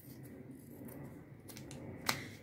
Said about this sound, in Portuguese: E agora podemos aqui cortar o excedente da tela